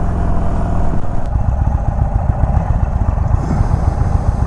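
A 2021 Indian Chief Bobber 116 with a Stage 2 tune rumbles loud and close, its big air-cooled V-twin thumping in a deep, pulsing lope under throttle while riding, with steady wind rush on top.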